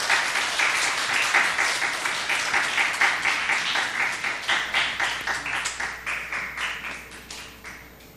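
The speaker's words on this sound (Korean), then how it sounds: "우리 김원석 강사님을 박수로 환영하겠습니다" A church congregation applauds to welcome a guest speaker at a Sunday service. The clapping is dense, steady and sustained, then thins out into more distinct individual claps as it fades toward the end.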